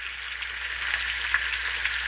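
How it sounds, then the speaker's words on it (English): A burger patty sizzles in butter in a hot pan for a patty melt, a steady, close, even crackle and hiss with small pops. "As you hear that burger sizzling away"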